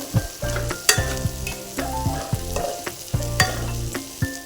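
Biryani masala mixed with yogurt sizzles loudly in a pan for chicken dum biryani, with rhythmic spoon strokes scraping and knocking the vessel in a steady stirring pattern, no voices.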